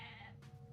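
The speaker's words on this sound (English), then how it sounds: "I just killed one of his goats." A goat bleats in the video game Age of Mythology, a short, wavering animal cry heard up close and alone for under a second.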